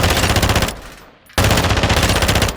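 FR Avancer assault rifle firing in a video game: two loud, dense bursts of rapid automatic fire separated by a short pause, the second burst running to the end.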